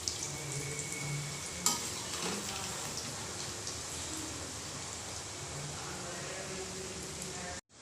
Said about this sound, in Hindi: इसे मीडियम गरम तेल में डालना है और बिल्कुल लो फ्लेम के ऊपर फ्राई करके रेडी करना है।